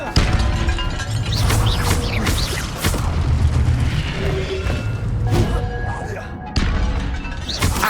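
An Incendio fire spell cast in Hogwarts Legacy, heavy booming bursts and crashing impacts repeating through combat, loud and dense with battle noise.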